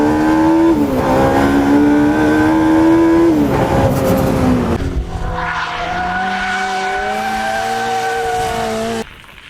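A Jaguar I-Pace electric car drives and accelerates hard, its motor whine rising and falling in steady tones over loud road and tire noise, with brief tire squeal, close and continuous until cutting off near the end.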